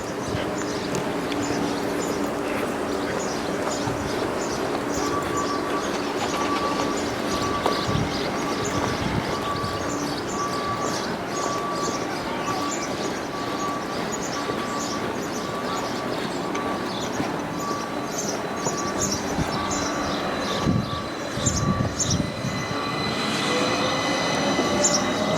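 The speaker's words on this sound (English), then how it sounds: "that's the last train we're going to see now for a while" A train rumbles steadily past at close range for a long stretch near Cononley, England, wheels clattering rhythmically with occasional high squeals and a brief clunk near the end.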